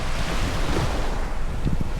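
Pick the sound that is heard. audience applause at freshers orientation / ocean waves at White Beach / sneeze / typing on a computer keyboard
ocean waves at White Beach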